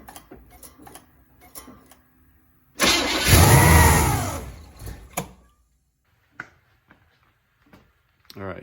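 Broken motor cranking briefly then catching and running rough for about two seconds before dying, followed by scattered ticks and knocks; it sounds close and fairly loud.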